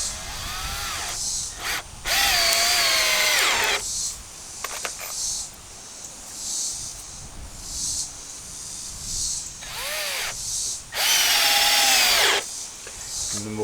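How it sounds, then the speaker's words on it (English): A power drill drives screws into wooden boards while a chicken tractor coop is assembled, with two loud whirring bursts a few seconds apart and quieter workshop noise in between. "I'm going to screw those together."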